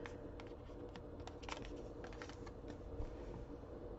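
A deck of playing cards is shuffled close by, giving a steady papery riffling crackle that runs for about four seconds with no voices.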